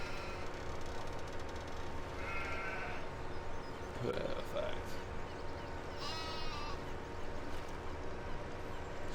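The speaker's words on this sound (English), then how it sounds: "Sheep are looking quite good though." Sheep bleat in Farming Simulator, with a brief wavering call in the middle of steady farm ambience while someone talks over it.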